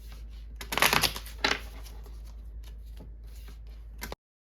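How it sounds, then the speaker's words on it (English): Tarot cards riffle and slide in a brief, soft shuffle close by, with a couple of louder flicks early on, then silence. "we're just going to do a few more shuffles here for you"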